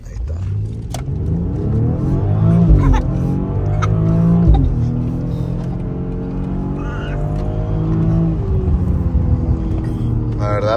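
A 4x4 single-cab pickup truck engine revs hard as it accelerates, its rising and falling pitch sweeping through several gear pulls, loud and close, with a voice briefly audible under the engine.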